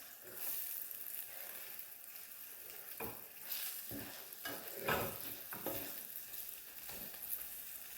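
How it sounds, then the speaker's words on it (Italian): Mushrooms fry in a pan of oil for a vegan dish and are turned over, giving a soft, steady sizzle broken by several scraping, stirring strokes, close but quiet. "andrò a cuocere i funghi. Ecco, li giro."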